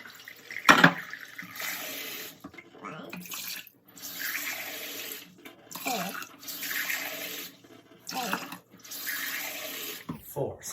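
Tap water runs into a kitchen pot in several separate bursts, each a loud rushing pour of a couple of seconds with quiet pauses between, for brewing ginger tea.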